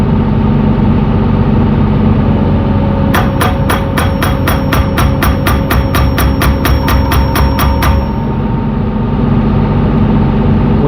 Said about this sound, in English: We need to apply pressure down with the boom and operate the braking hammer.